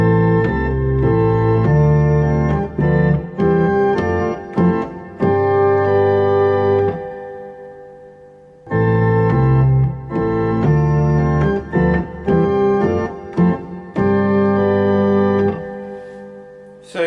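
A church organ plays the hymn tune Abbot's Leigh in sustained chords with clean stops between phrases, the passage repeated twice, loud and alone.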